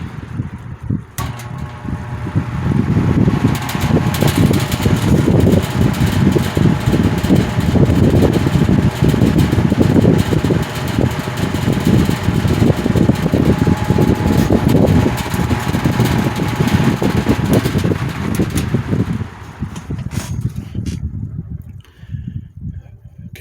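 A Lakewood X22 box fan, due for cleaning and service and with a motor that heats up quickly, runs steadily with a loud, constant whooshing hum that thins out near the end.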